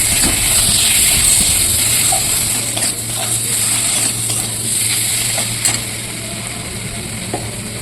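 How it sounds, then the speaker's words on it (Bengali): Chopped tomatoes fry with spices in a pan for a fish-roe fritter and potato curry, a steady loud sizzle and hiss with faint stirring clinks over the whole stretch. "টমেটো কুচিগুলো দিয়ে আরেকটু ভালো করে কষিয়ে নেব।"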